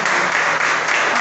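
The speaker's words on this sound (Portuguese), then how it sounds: "é só para aplaudir Deus, não pode contar isso" A church congregation applauds during a worship service, a steady, dense wash of clapping throughout, loud and close, with no talk over it.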